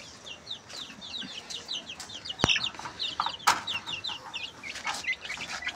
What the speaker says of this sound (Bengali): আর মুরগিগুলো একবার ছেড়ে দেই।